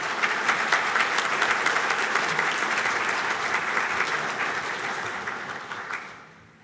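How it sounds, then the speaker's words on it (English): Steady, full applause from the crowd at a university master's hooding ceremony, sustained for several seconds and tapering off at the end, with no voices over it. "Please give them a warm round of applause."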